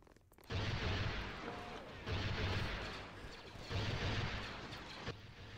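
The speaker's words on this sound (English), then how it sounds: "That clone sitting in the seat just firing away" Turret gun fired by a clone in Star Wars Republic at War, heard as loud, dense bursts of booming fire that swell in three waves over a constant battle rumble, with no voices.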